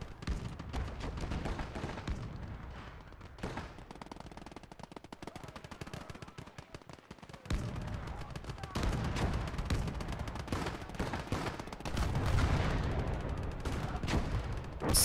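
Gunfire from a World War II battle in Call to Arms – Gates of Hell: Ostfront, a dense stream of shots and bursts running throughout, with heavier volleys building toward the end and occasional voices in the mix.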